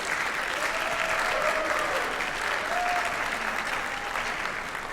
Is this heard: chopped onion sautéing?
no